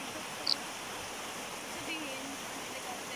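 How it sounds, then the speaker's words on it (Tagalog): Abuab Waterfalls, tucked between mountains in San Mateo, Rizal, Philippines, gives off a steady broadband rush of falling water heard from some distance, even and continuous, with one brief faint chirp near the start. "At nakita na rin namin itong Abuab Waterfalls."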